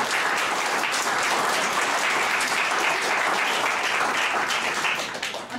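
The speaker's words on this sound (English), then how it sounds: "give them a round of applause" An audience at a mental health event claps steadily as a dense, even wash of applause, loud and unbroken, tapering off slightly at the very end, with no voices.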